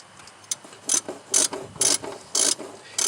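Ratchet wrench loosening a bolt on a 2003 Nissan Xterra during AC work: a series of about eight quick, close clicking bursts in an uneven rhythm, with no talk.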